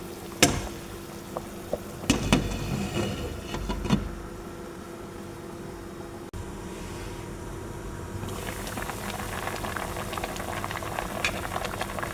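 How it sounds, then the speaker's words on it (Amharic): Previously fried fish simmering in a pot of boiling water: a steady, close bubbling boil with a few sharp clatters early on, no voices. "እንደምታዩት እየተፍለቀለቀ ነው።"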